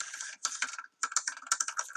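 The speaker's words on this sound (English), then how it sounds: "Oh my gosh, she's typing." Rapid, irregular clicking of fingers typing on a computer keyboard, close and clear, with two short pauses between bursts of keystrokes.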